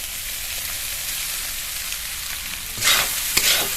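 Rice fries in a pan with eggs and spice masala, giving an even, close sizzle that gives way near the end to a few louder stirring scrapes, with no voices.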